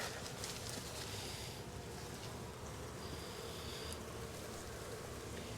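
Dense, continuous buzzing of many queenless honeybees from a drone-laying colony, a loud swarm hum filling the air with some wind noise.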